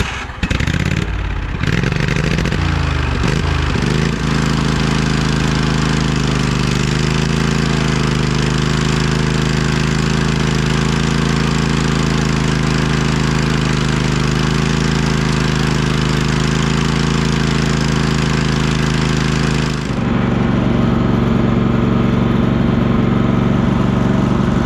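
A 2004 Craftsman DLT3000 lawn tractor engine catches after a few brief rough bursts, then runs loud and steady with an even droning hum, shifting to a rougher, lower tone near the end.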